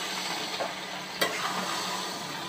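Taro greens with shrimp being stirred in a cooking pot, a steady hiss of simmering and frying with a few soft scrapes and one sharp clink of the spoon.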